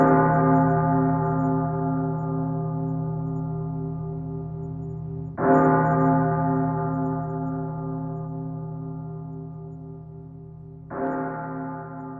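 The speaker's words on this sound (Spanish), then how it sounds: "siempre estaría en la iglesia cuando sonara la campana de la víspera" A church bell rings for vespers, three deep resonant strikes spaced about five seconds apart, each leaving a long humming decay that fades slowly, clear and alone.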